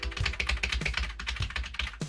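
Rapid clicking of keys on a keyboard connected to a Samsung DeX phone setup, a quick irregular clatter of close keystrokes with no talking.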